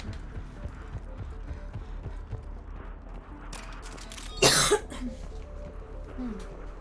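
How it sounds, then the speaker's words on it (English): A person coughs in a harsh burst under a busy game soundtrack with footsteps and background effects, one loud cough standing out near the middle. "Still bloody coughing, aren't you?"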